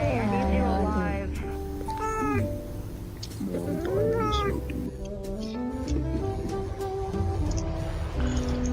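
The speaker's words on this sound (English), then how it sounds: "That damn cat." A cat meows and caterwauls repeatedly in drawn-out, wavering cries, fairly close, mixed with talking voices in the room.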